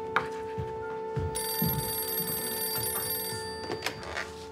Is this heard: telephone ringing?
yes